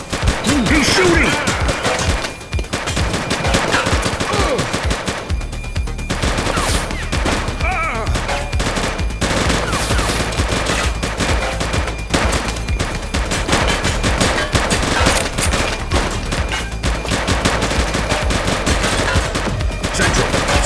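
Relentless gunfire in the police video game The Precinct: loud, dense bursts of automatic and rapid shots fill the whole stretch without letup, with occasional shouting voices buried under the barrage.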